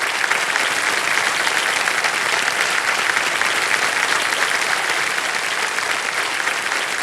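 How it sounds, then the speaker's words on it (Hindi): A studio audience on the KBC quiz show applauds loudly and continuously for about seven seconds, a dense, even roar of many hands clapping with no talk over it. "आइए बैठिए, ताली बजते रहे इनके लिए"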